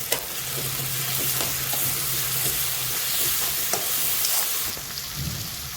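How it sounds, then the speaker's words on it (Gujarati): Loud, continuous sizzling of coriander-cumin powder in a hot pan for tawa pulao, with occasional scraping taps as the contents are stirred; no voices. "હવે હલાવી લઈશું આપણે"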